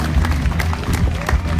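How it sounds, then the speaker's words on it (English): Audience at an outdoor strongman competition in Morden gives a big round of applause, dense clapping and cheering filling a short burst at fairly loud level, with an announcer's voice partly mixed in. "Big round of applause."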